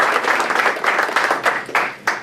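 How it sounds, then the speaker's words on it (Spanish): An audience applauds in short, uneven bursts of clapping at a public gathering, the claps pulsing and thinning over a couple of seconds. "Un aplauso también."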